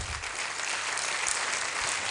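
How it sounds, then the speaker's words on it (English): Steady, dense audience applause fills a summit hall, a continuous wash of clapping from a large crowd with no pauses. "You can keep on clapping."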